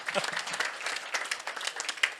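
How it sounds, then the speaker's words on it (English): Audience applause at a Farming Simulator community Q&A at LAMMA 2025, a dense patter of many hands clapping at a steady level throughout. "let's give them a round of applause as well."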